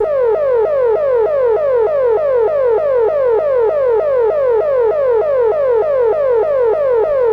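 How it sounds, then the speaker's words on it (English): A Korg MS20mini synthesizer plays its police siren preset: a loud, steady electronic wail repeating in rapid, evenly spaced falling sweeps, alone and continuous throughout. "The part where they decided it was a great idea to have a police siren."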